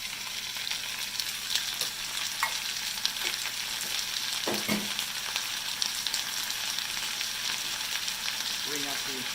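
Cut vegetables and ginger frying in a cast iron pot for Thai coconut lime mussel curry, giving a steady crackling sizzle with faint crisp pops and a brief stir or clink.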